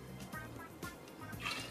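Vinegar poured into a tall container along with water, a faint trickling splash with a few soft drips, quiet and close.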